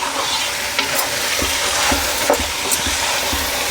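Masala being stirred as it fries in oil for a chicken curry, a steady loud sizzle with repeated scraping stirs of the spoon through the pan, close up, with no talking.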